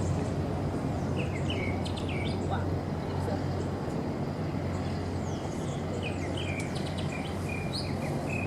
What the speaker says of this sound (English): Listen to the birds this time of night.